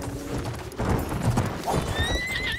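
Hooves clip-clop at a gallop while a horse lets out a high, drawn-out neigh near the end, close and fairly loud, in the video game Battlefield 1 beta.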